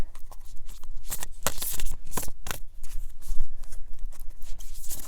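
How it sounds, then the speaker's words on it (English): A large oracle card deck being shuffled by hand, with rapid riffling and flicking bursts of card noise repeating steadily and close up throughout, with no talking. "This deck is a little large for my hands, so when I'm shuffling it, it's, being real careful"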